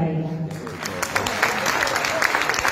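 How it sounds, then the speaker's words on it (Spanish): An audience at a youth recognition gala in Belén, Medellín claps steadily and fairly loudly, a sustained wash of applause with some crowd murmur. "Un aplauso para ella."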